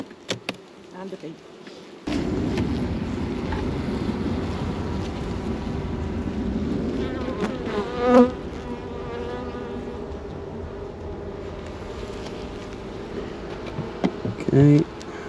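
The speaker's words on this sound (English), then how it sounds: "And a bee." Honey bees buzz steadily around an open beehive during varroa mite treatment, a dense close droning swarm that starts after a short quiet lead-in and continues throughout, with a few louder bumps and faint handling noises.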